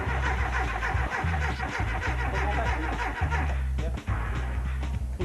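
A Metro car engine mounted in the boot of a modified push-me-pull-you car, cranking repeatedly in a rough uneven rhythm without catching, the starter churning loudly and close.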